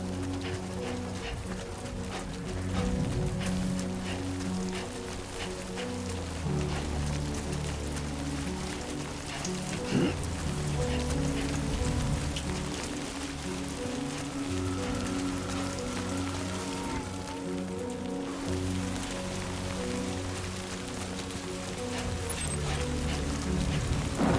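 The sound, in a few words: rain falling in video game Death Stranding 2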